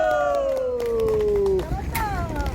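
A crowd at a street rally in Gwanghwamun claps and cheers amid general hubbub, while a loud sustained voice over the sound system carries on above the noise.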